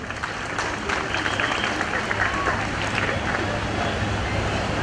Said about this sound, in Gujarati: આ તમામ બાળકોના ઉત્સાહને એકવાર જોરદાર તાળીઓથી વધાવીશું.